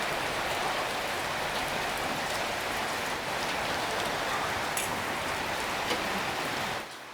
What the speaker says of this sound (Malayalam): ഭയങ്കര മഴയായി.